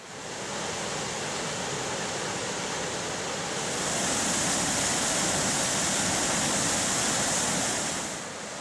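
Silver Falls in Mount Rainier National Park, reached by trail from a forest campground, gives a loud, continuous, steady roar of falling water that swells slightly midway, with no voices.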